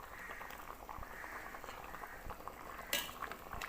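Thickening Tamil-style fish curry simmers in a pot, soft bubbling and popping close by with a gentle continuous hiss and an occasional light clink.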